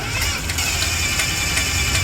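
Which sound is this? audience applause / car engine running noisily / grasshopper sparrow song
car engine running noisily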